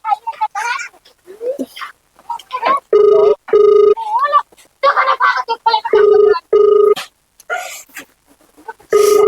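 A phone ringback tone purrs in repeated, evenly spaced bursts after dialing, loud and close, interleaved with people talking between the rings.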